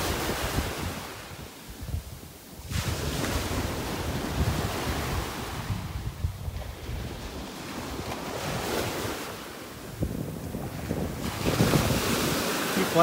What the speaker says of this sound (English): So nice listening to the waves.